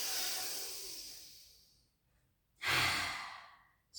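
Slow, deep breathing during a relaxation-focused pilates exercise: a long, airy exhale that fades out, a brief pause, then another strong breath rising close to the microphone, with no talking over it.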